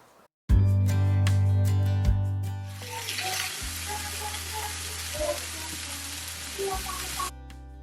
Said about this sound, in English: When I'm cooking steak in this skillet, I actually just brown both sides of the meat until they're nice and caramelized